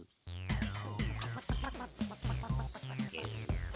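A hen clucks in short, repeated bursts, loud and close, with a busy, uneven rhythm.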